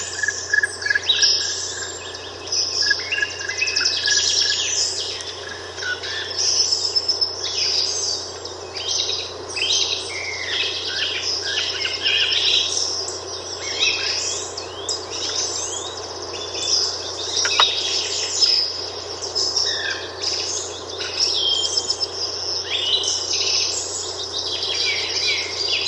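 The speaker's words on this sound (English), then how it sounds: "Hear lots of birds." A dense outdoor chorus of many birds chirping and trilling over a steady bed of insect and cricket buzz, continuous and fairly close, with no talk.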